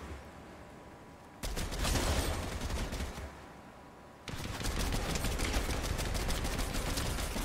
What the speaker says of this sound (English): Yeah, he's firing at me.